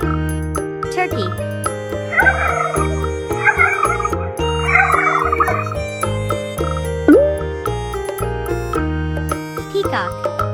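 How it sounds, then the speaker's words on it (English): Turkey gobbling on a farm, a couple of rapid warbling gobble bursts over a bouncy children's music track with chimes and bass, fairly loud and close. "Turkey."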